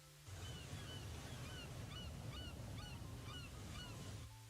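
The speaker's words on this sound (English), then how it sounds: "the logo is seen as sounds of seagulls chirping and waves crashing play" Seagulls call in short, repeated chirps over a steady roar of crashing ocean surf, both continuous and fairly loud throughout a closing logo sequence.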